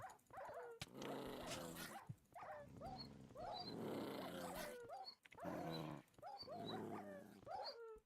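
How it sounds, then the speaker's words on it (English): Dog barking, growling and whimpering in the video game Hypixel Skyblock, a pet puppy's calls repeating in loud bursts with brief gaps across the scene, no talking. "Puppy wants to play."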